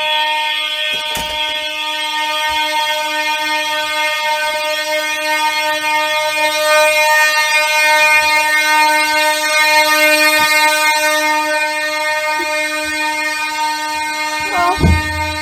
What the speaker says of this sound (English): there's a fire alarm going on